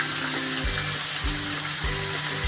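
Paneer cubes frying in hot oil with a pinch of turmeric, a steady sizzle with soft periodic stirring scrapes repeating about every half second.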